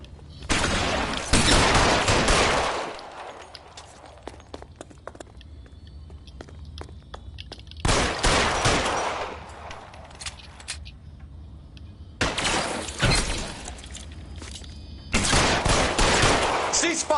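Gunfire in the video game L.A. Noire: loud bursts of rapid shots arrive in four separate volleys, each lasting a second or two, with quieter stretches of background ambience between them.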